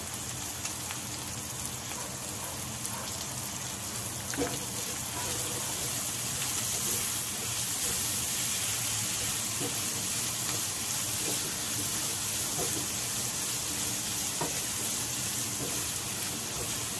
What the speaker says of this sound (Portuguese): aqui eu já vou colocar a cebola. Também precisa fritar um pouquinho.